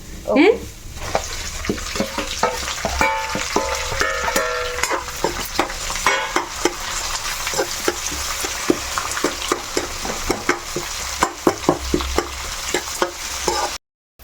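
Steady sizzling of onion, green chilli and curry leaves frying in a pan, with frequent scraping and clacking of a spoon stirring throughout, no talking.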